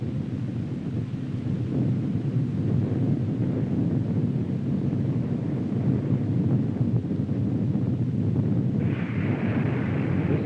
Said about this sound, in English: Our nation successfully explodes its second nuclear bomb in the sky over the western part of our